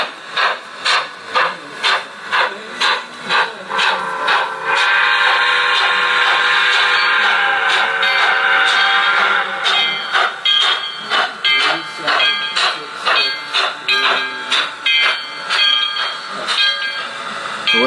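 Model steam locomotive fitted with an ESU sound decoder, rhythmic chuffing that swells into a heavy, continuous roaring rev under load, then falls back to steady chuffs, close and loud with someone talking over it.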